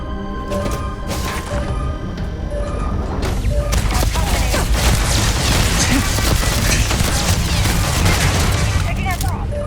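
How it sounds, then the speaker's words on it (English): Pistol shots in the sci-fi game Starfield ring out amid a busy firefight, with repeated cracks and booms over a dense, loud backdrop and a voice speaking in the mix. "This man brought out a pistol."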